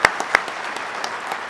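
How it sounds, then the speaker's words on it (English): Audience applause at a veterans winter stand-down event, a short burst of clapping with a couple of sharp close claps standing out over the general patter. "Yep, one big round of applause."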